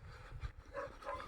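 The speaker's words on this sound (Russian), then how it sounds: "сидит собака на поводке здесь. Будку возле дороги поставили. Каждый раз облаивает." A leashed dog tied near a kennel by a roadside barks in a few short, muffled bursts, fairly faint and heard from a little distance with no talk over it.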